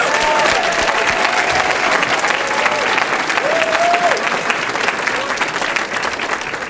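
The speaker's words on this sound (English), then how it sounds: "Let's give them all a round of applause." Dense, steady applause from an audience at an entrepreneurship awards banquet pitch competition, honouring the competing teams, filling the whole stretch at an even, loud level without letup.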